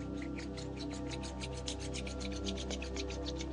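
Palms rubbed together briskly during a yoga exercise, a soft rhythmic swishing friction repeated in quick even strokes, close and fairly quiet.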